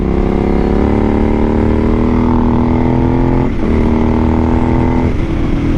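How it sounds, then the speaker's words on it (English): Suzuki SV1000S motorcycle with a cheap aftermarket slip-on exhaust, loud and close from the rider's seat, a deep steady drone whose pitch climbs smoothly then dips briefly before rising again. "It's a fake SC project that I got for like 36 bucks on eBay. But my exhaust actually has some back pressure now."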